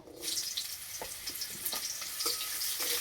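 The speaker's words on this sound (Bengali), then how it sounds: "করলা হালকা করে একটু ভেজে নেব।" Bitter gourd fries in oil in a pan with dried red chillies and bay leaves, a close, continuous sizzle with soft pulses as the pieces are stirred.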